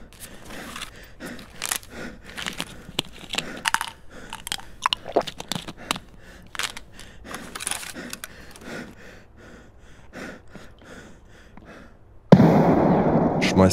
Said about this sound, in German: Schmeißt noch eine Granate irgendwo hin.